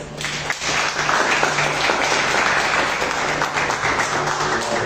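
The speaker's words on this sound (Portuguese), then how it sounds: "Aplauda o Senhor Jesus" A church congregation applauds during a worship service, loud continuous clapping from many people that swells quickly and stays dense, with a low steady hum underneath.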